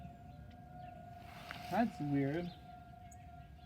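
A 2001 SRN tornado siren sounds during a test, a steady far-off tone running beneath the outdoor background while a person briefly speaks in the middle.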